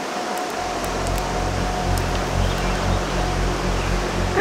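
Steady broadband rush of the Greys River in Wyoming flowing near a campsite, constant and fairly loud, with a faint hum and a few light clicks.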